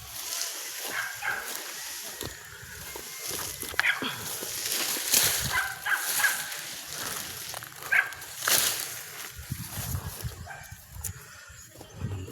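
Dogs kept chained and caged on a rural Philippine farm bark and whimper in scattered bursts, with outdoor noise and some splashing water around them, moderately close.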